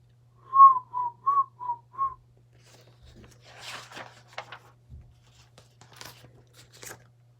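A person whistles five short, clear notes in a quick tune, followed by faint rustling and crinkling sounds.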